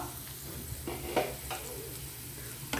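Okra and potato frying in a pan, a low steady sizzle with a few soft scraping stirs of a spoon, close and fairly quiet.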